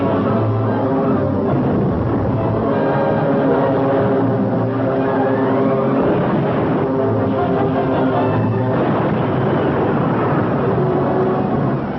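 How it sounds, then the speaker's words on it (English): WWII American and Australian military planes in flight, a steady droning propeller engine roar that stays loud and constant throughout, with faint voices underneath. "For 3 days, 162 American and Australian planes bombed and strafed the Jap fleet."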